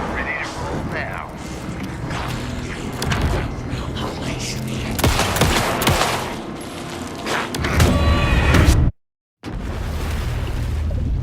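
Dense gunfire and booming impacts fill a tense fight in the horror game Alan Wake 2, with bursts of shots, thuds and crashes over music and voices, ending in a sudden brief silence.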